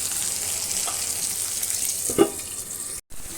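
Potato and onion fry in a pan with a soft, continuous sizzle, a faint clink of a utensil partway through, and no talking.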